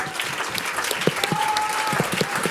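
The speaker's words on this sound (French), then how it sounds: "je souhaite vraiment applaudir du fond du cœur" Applause at a French awards ceremony for women in adapted and sheltered workplaces, a sustained room full of clapping hands with a few voices mixed in, steady and fairly close.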